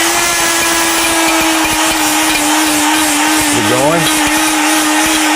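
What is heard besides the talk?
electric grinder grinding herbs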